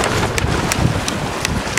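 Strong wind while sailing across the Red Sea in a slight swell, a steady loud roar of wind buffeting the microphone with brief gusty bursts, no voices.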